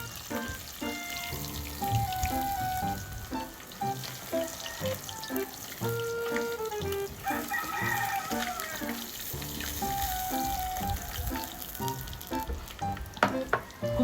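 Tilapia sizzles and crackles steadily in a frying pan, a continuous hiss running beneath a layer of music throughout.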